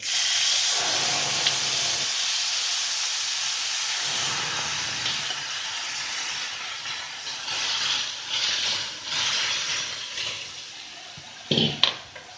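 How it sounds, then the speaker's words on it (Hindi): Ripe mango pieces dropped into hot oil tempered with fennel seeds, giving a loud, steady broadband sizzle that holds for the whole stretch with a brief stirring clatter near the end. "अब इसमें ये डाल देंगे आम जो हमने रखे थे।"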